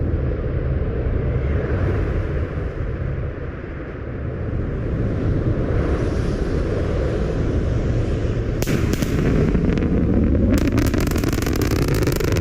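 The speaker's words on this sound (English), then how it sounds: "hearing those sonic booms as the shuttles landed in Florida and now hearing them for Falcon and Starship as well" Sonic booms from a landing SpaceX rocket roll in as sharp, heavy double cracks over a loud, continuous outdoor rumble and wind, heard from a distance with no talking.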